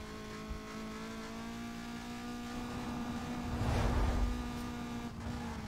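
Engine drone from a racing car in the video game Need for Speed Most Wanted, a steady revving tone that swells louder near the middle and holds continuously without talk.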